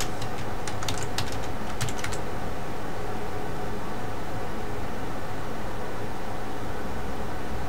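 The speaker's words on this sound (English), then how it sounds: "I'm going to go ahead and type in my password to log in." A login password is tapped out on a computer keyboard in quick clicks during the first couple of seconds, then only a constant loud hiss remains with no more keystrokes.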